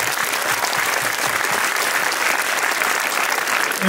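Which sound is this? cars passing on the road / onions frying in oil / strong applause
strong applause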